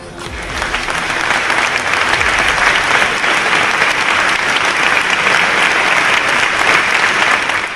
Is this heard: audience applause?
yes